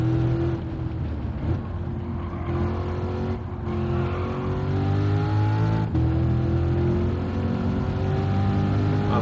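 A race car laps Laguna Seca in Gran Turismo, its engine note rising and falling steadily through gear changes as it brakes and accelerates, with brief tire squeal, loud and continuous without talk.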